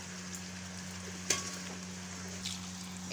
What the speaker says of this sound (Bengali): নিয়ে জল দিয়ে দিচ্ছি